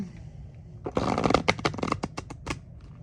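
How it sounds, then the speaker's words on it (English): A tarot deck is shuffled up close, giving a brisk burst of rapid papery flutters and snaps that lasts about two seconds before tapering off, with no talking. "Probably because that was a bad shuffle."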